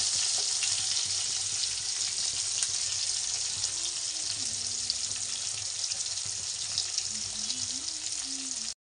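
Fish pieces frying in a pan give a loud, steady hiss and crackle of hot oil, close and continuous throughout with faint background tones beneath.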